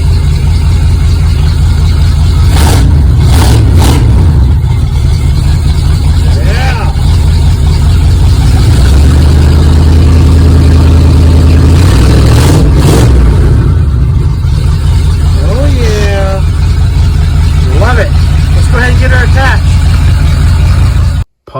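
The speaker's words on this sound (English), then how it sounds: "Let's do a quick rev." A car engine fitted with a turbo, boost gauge and air-fuel gauge rumbling loudly up close and revved a few times in quick bursts, with someone talking over the steady engine drone.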